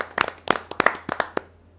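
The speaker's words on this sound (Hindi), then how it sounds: "जोरदार ताली के साथ हम उनका स्वागत करते हैं।" Audience at a Hindi poetry gathering (kavi sammelan) claps to welcome a poet, a burst of scattered, uneven hand claps with distinct individual slaps rather than a dense roar, moderately close and with no talk.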